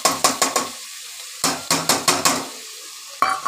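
Ghee-fried Gobindobhog rice is stirred into spice paste in a pan, a spoon scraping and clacking in quick bursts of rhythmic strokes over a soft sizzle, with short pauses between runs of stirring.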